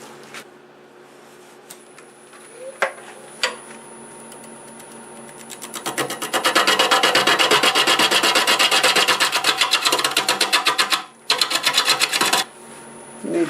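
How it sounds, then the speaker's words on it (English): Bowl gouge cutting a black locust burl bowl spinning on a wood lathe at about 550 rpm, a steady loud rasping scrape with rapid chatter from the rugged live edge, briefly pausing then resuming, with no talking. "I think we can go to a bowl gouge now."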